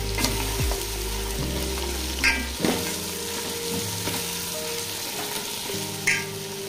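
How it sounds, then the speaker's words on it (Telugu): Grated coconut is stirred into a frying Andhra goat-head curry, a continuous sizzle with repeated spoon scrapes and clacks against the pan at irregular intervals, close and moderately loud, without speech. "ఇప్పుడు కొంచెం కొబ్బరి వేసి బాగా కలుపుకోండి"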